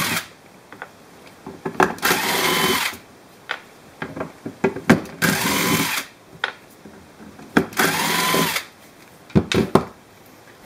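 Power screwdriver removing four T15 Torx screws from a Peugeot Citroen EDC17C10 ECU held in a vise, in four loud whirring runs of one to two seconds each, separated by short pauses with clicks and handling noises.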